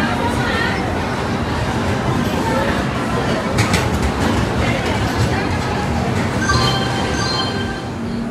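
A train pulls into a busy station with a steady rumble of wheels on track, brief squeals and clanks rising over it, and people chattering in the background.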